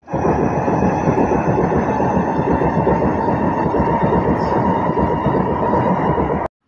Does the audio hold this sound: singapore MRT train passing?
yes